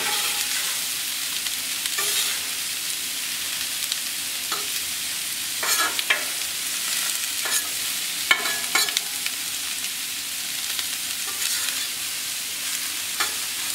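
Quail brown on a very hot plancha with a steady, even sizzle, broken every few seconds by short scraping and stirring sounds from a utensil on the metal surface.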